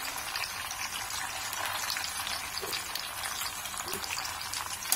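Sardine fish frying in a pan over low heat, a steady close sizzle with busy crackling and popping oil, even in level, with a faint clink near the end and no talking.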